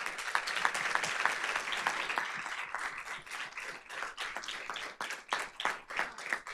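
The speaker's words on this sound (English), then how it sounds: "Let's give them a big round of applause." An audience applauds at a board of trustees meeting honoring achievements, a steady wash of clapping that thins toward the end into separate, distinct claps.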